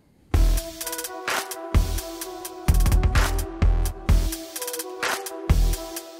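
A punchy electronic drum beat with heavy kick drum hits and crisp hi-hats, ending in a quick rapid kick fill, loud and up close.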